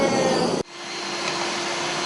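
A vacuum cleaner draws air through a hole in a hands-on design workshop setting, giving a steady, loud broadband rush that drops abruptly after about half a second, then resumes as a thinner hiss with a faint whistling tone.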